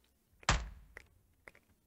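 An AI-generated hammer sound effect for a video game, sounding more like a gunshot: one sharp, loud, booming thud with a short decay, then two fainter knocks trailing after, with no voices.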